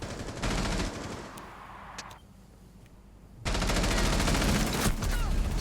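Rapid automatic gunfire from a Rainbow Six Siege esports match rattles in loud sustained bursts, easing into a quieter lull midway before a dense, heavy volley resumes and holds to the end.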